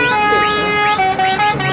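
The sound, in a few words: lorry telolet horn honking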